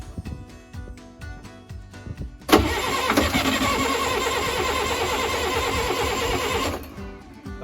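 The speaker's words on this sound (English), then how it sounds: "Why don't we just crank with no glow plug?" Diesel engine cranked without the glow plug: a rapid rhythmic chugging of the starter, then the engine catches and roars loudly for about four seconds before cutting out abruptly.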